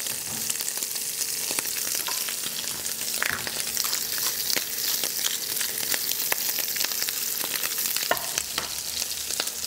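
Shrimp sear in a very hot pan with a constant crackling sizzle and scattered sharp pops, close up and moderately loud, with occasional scraping as they are stirred.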